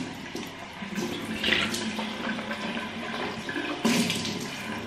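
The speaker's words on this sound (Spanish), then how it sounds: "Mojamos el cepillo y al mismo tiempo ponemos agua en la boca." Water runs steadily from a tap while a soft toothbrush is wetted at a bathroom sink, a continuous close splashing stream with brief louder surges.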